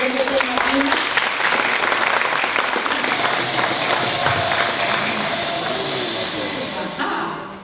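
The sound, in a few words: audience applauding for teacher award winner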